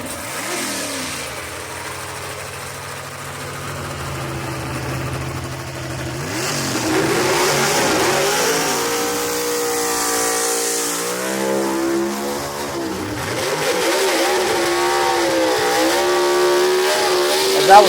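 A gasser drag race car at a Brainerd Motorsports Park event heard from a distance, engine note climbing through rising revs and gear changes into a steady, sustained roar.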